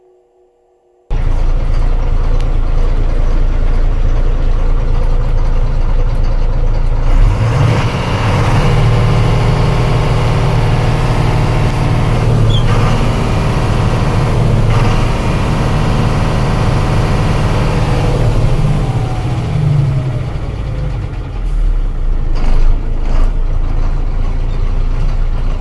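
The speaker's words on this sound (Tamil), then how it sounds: "ஸோ வண்டியை ரேஸ் பண்ணி காமிக்கிறேன் பாருங்கள் நண்பர்களே." A 2016 model 10-wheel lorry's diesel engine runs steadily and loud close by, with a heavier low rumble as it revs for a stretch in the middle before easing back, and no talk.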